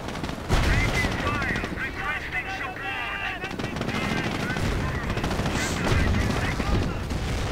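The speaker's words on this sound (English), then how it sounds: "Schwimmwagen getting shot up." Rapid machine-gun fire and scattered shots in a World War II strategy video game as a Schwimmwagen comes under fire, forming a steady rattling barrage under a commentator's voice.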